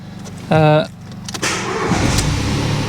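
A Ford Fiesta Mk7.5 engine cranks and catches, then settles into a steady idle; a short electronic chime rings just before the start.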